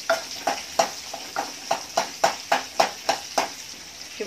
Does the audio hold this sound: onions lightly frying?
yes